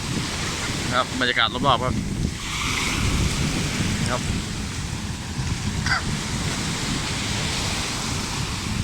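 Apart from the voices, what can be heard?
strong sea waves and sea wind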